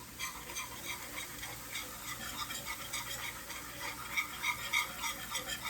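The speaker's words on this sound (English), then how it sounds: "I'm just going to take this 1/4 cup of flour that we set aside and sprinkle it in and just start whisking it." Flour being whisked into hot oil in a pan to make a roux for chicken fried chicken: quick, rhythmic scraping whisk strokes over a steady close sizzle, with no voices.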